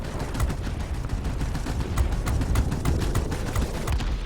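Rear turret machine gun of an Fw 57 aircraft firing in a flight combat video game, a dense continuous rattle of rapid shots with sharper bursts punching through, steady and close throughout.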